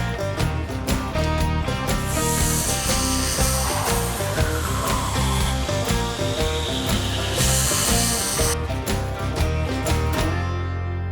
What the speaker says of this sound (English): now it's time to rough grind the distal taper and the bevels into the blade